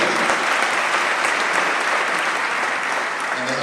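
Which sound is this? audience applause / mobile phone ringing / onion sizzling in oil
audience applause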